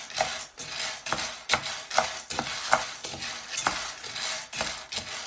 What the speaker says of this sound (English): this is how you keep frying it.